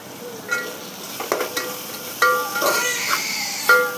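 Chili powder frying in oil in a pan for a taro root tamarind stew, a steady soft sizzle with several brief louder scrapes of stirring, close by and without talk.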